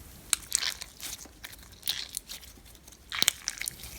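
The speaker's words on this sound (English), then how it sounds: "I have never heard ASMR from another slime that sounds like this." Kuromi-themed frog spawn slime packed with beads is squished by hand, giving close, quiet bursts of crunchy crackling and crinkling in short irregular clusters with soft pauses between.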